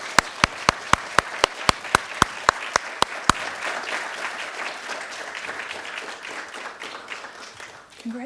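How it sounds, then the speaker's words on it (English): An audience at an award ceremony claps for the winners, opening with a dozen sharp, evenly spaced single claps before swelling into sustained, fairly close applause from a crowd. "so we can give you a proper round of applause"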